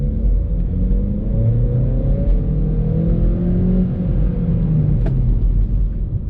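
A Volkswagen Polo GT TSI engine revs and pulls steadily in sports mode and second gear, heard from inside the cabin, a continuous loud rumbling drone with rising and falling tones.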